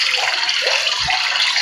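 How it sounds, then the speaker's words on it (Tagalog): Tap water runs hard and steadily into a sink while fresh milkfish is washed before being grilled in a pan; the stream is loud and continuous, with a faint low bump partway through. "Si Mami Millet, ang lakas magtubig"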